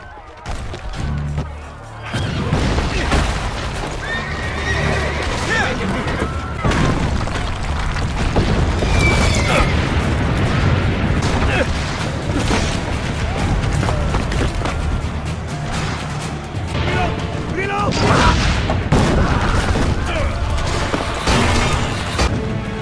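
Cannon fire during a siege battle in the video game Assassin's Creed Brotherhood: heavy repeated booms and crashes layered in a dense, continuous wash of battle noise.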